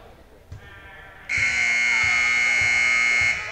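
A loud, sustained electronic scoreboard buzzer blares for about two seconds, steady and harsh, then cuts off, with faint background noise before it.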